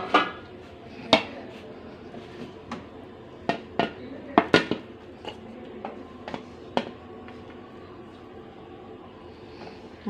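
Cooked khichdi rice being served into a dish, with sharp clinks and taps of a spoon against metal, scattered irregularly and louder early on, then fading to quiet room tone.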